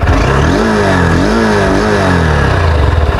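A Honda CB200X motorcycle engine revs up and down close by, its pitch rising and falling in a continuous loud drone.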